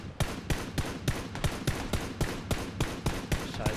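Rapid gunfire bursts in the video game PlayerUnknown's Battlegrounds repeat at a steady rhythm, about three shots per second, sharp and fairly loud with a dense background underneath.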